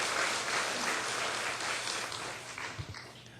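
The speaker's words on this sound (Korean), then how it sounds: "박수해 주시기를 바랍니다" An indoor audience claps steadily, a dense wash of applause that slowly fades toward the end.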